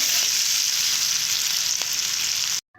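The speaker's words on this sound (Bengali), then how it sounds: "আলু আর গাজরগুলোকে ভালো করে ভেজে নেব" Potatoes and carrots fry in a pan, an even, loud sizzle close by for nearly three seconds before cutting off abruptly, with a short tonal blip after.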